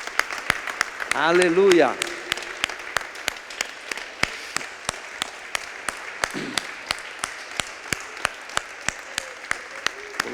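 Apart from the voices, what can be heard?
church congregation applause for Jesus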